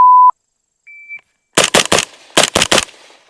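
Two beeps from a shot timer precede six sharp, close shots from a suppressed IWI Carmel rifle at a shooting range, fired in two quick strings of three with a short pause between.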